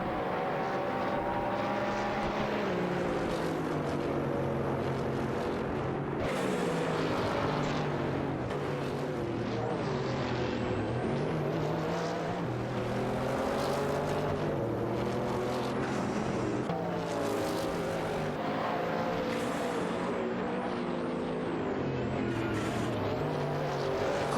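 Lola and BMW V12 LMR race cars in a video game battle for position on a circuit, engines droning steadily and loudly with rising and falling whine as they shift and maneuver, no talk.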